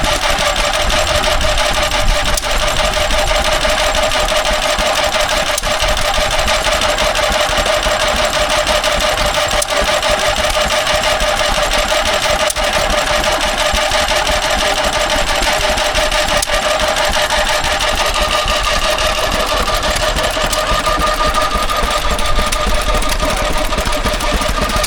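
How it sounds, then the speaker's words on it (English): A Lister side-valve stationary engine drives a Bamford corn grinder at a country show, running with a loud, steady, even chugging hum that holds unchanged the whole time without talk. "there's a Lister stationary engine powering up a Bamford corn grinding thingy"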